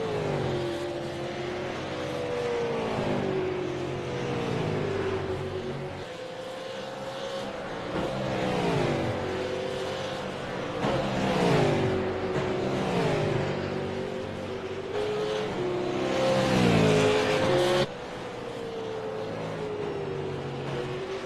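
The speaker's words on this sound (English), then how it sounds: "You can hear the horsepower behind these cars." Powerful race cars in an iRacing sim race, engines repeatedly rising and falling in pitch through gear changes and passes, a continuous loud drone of several cars with no talk over it.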